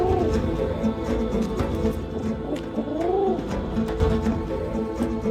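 Pigeons trained as messenger birds coo in repeated soft, rolling calls, close and fairly loud, over a low background murmur.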